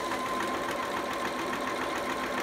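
A sewing machine back stitching a seam on a bell-sleeve romper, running in a continuous fast mechanical chatter with rapid needle ticks, moderately close and steady, with no talking.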